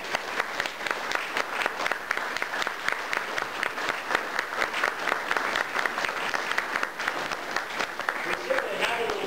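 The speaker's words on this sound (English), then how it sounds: "Give a round of applause, first of all." Sustained audience applause at a Boy Scouts award ceremony honoring a man for saving a life, many hands clapping rapidly and evenly for several seconds at a steady, moderately loud level.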